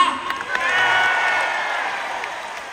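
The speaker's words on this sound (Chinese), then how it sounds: "热烈鼓掌给自己。" A concert audience at a world tour show breaks into loud, sustained applause mixed with cheers and whoops, swelling quickly and then slowly easing off.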